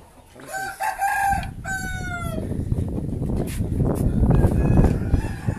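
A fighting rooster, a bladed gamecock, crows once near the start after some clucks, then mixed farmyard clucking and scuffling noise fill the rest, moderately loud and close.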